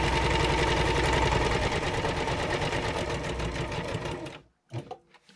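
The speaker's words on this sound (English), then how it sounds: "I'm just going to actually sew around those edges that I made too" A sewing machine runs in a steady fast chatter, stitching around the edges of handmade journal cards, close and continuous for several seconds before stopping, followed by a few soft handling clicks.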